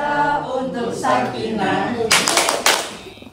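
Rhythmic group hand clapping of the tepuk sakinah clap chant, several sharp claps in a quick patterned burst near the end, following chanted voices and talk.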